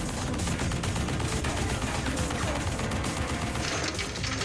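A Gatling gun fires a continuous, dense rapid burst, loud and close, sustained without pause for several seconds with a harsh mechanical rattle.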